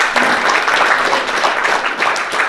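A charity event audience breaks into loud, sustained applause, a dense crowd of hands clapping steadily and evenly across the whole moment.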